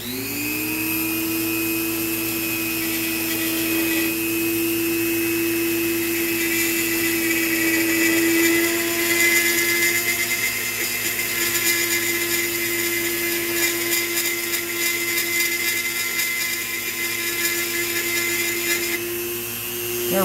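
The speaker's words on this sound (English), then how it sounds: "my Dremel's getting wore out, and this chuck's getting wore out from being cranked down too tight" A worn Dremel rotary tool with a loose, over-tightened chuck runs steadily for the whole stretch, a high continuous whine with a strong buzzing tone and no pauses, loud and close.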